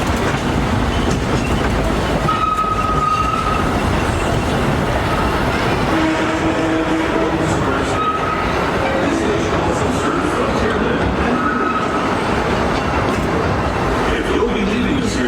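The Disneyland Railroad train, pulled by the Ernest S. Marsh locomotive, rumbles steadily along its rails for the whole stretch, loud and continuous, with clattering wheels and occasional brief whistle-like tones over the rolling noise.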